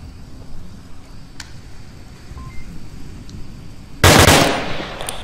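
Gunfire in the virtual reality shooter Onward sounds as a single loud, sharp shot near the end, with a decaying tail, after a stretch of low ambient background noise.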